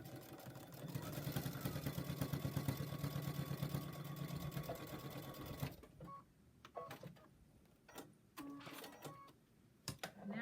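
A sewing machine stitches fabric for a small fat-quarter drawstring bag, running as a steady mechanical whir for about six seconds before stopping. Scattered clicks and handling noises follow.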